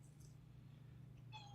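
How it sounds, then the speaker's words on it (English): A pet cat gives a short meow near the end, faint and somewhat distant, over a steady low indoor hum. "Shut the hell up, kitty."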